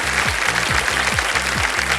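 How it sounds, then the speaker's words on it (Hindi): Studio audience applause on the Hindi quiz show Kaun Banega Crorepati, a steady, dense wash of clapping that lasts the whole stretch over a low, repeating musical backing. "ताली बज गई।"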